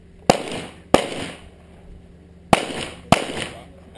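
Four sharp, loud gunshots ring out on a shooting competition stage, falling in two quick pairs with short pauses between them and each crack fading into a brief echo.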